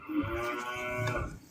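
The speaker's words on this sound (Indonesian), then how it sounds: "Sapi." A cow moos in a single long, low, droning call lasting over a second, fairly close and loud, with a steady harmonic tone and no voices over it.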